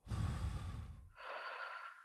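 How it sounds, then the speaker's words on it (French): A single audible breath during a guided affirmation session, drawn in deeply and released, close and quiet with no talk over it. "Une respiration."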